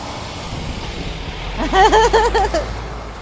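A ten-wheel truck reverses toward its trailer to hitch it. Low engine rumble sits under a loud warbling reversing alarm that wavers up and down for about a second.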